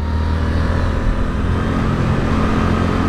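A Suzuki GSX-8S motorcycle out on the road, a steady engine drone mixed with wind rush that holds loud and even throughout, without clear revving peaks.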